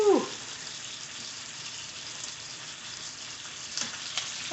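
Chicken fries in butter in a pan, a faint, even sizzle heard close and alone, with a brief clatter at the start and a light knock near the end.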